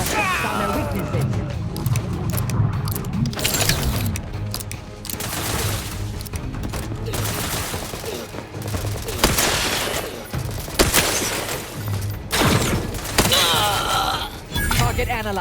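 Gunfire in the video game The Outer Worlds 2, with rapid bursts and sharp repeated shots cracking over a busy combat mix, loud and close, while voices call out during the fight.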